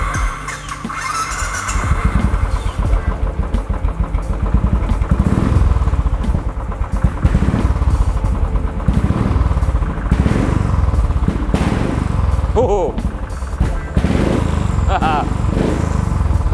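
A Royal Enfield 500 motorcycle engine thumps and revs nearby in rising and falling bursts, a low rough throb with occasional squeals, while someone talks over it.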